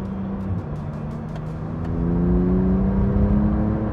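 A Porsche GT2 RS with a PDK gearbox accelerates hard, the engine note rising steadily and growing louder as heard from inside the car, with a faint clatter early on.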